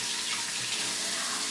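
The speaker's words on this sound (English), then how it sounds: "I put my sink on hot water" Hot water running from a sink tap, a continuous close rushing hiss at steady volume, heard alone without talk.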